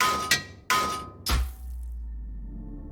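A hammer strikes a rusty padlock three times, each a sharp metallic clang with a ringing tail. The final blow lands with a heavier thud and leaves a low rumble that lingers.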